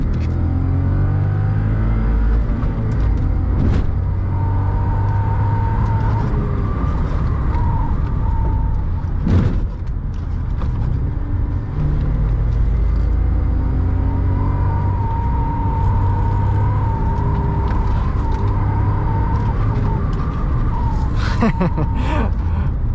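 A 2010 Audi S5 with a six-speed manual is driven hard, its engine rumbling steadily and loud from inside the cabin, with revs rising and falling, a sharp thump near the middle and a brief rustle near the end.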